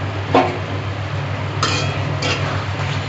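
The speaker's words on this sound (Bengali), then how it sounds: "এবার ঢাকাটা খুলে দেখি কতটা হলো" Metal pot lid being lifted off a pan of prawns cooking in poppy seed paste, giving a few brief clinks over a low kitchen hum, close by with no talking.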